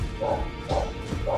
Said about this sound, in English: Oh my god, that's my dog.